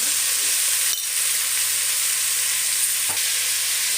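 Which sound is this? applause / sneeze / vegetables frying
vegetables frying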